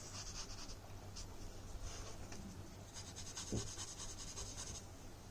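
Tissue paper rubbing over crayon coloring on paper, giving a soft, continuous scratchy rub with quiet scraping strokes and no talk.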